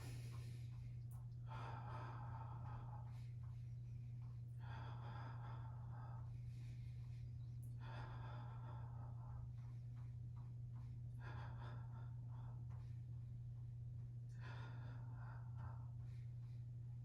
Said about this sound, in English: Inhale for 5, exhale for 5.